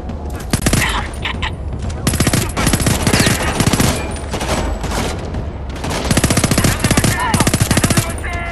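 Loud, sustained machine-gun fire in the game Homefront: The Revolution, with rapid bursts in close succession and brief gaps.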